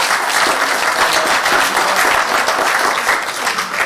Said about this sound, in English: I never expected a round of applause tonight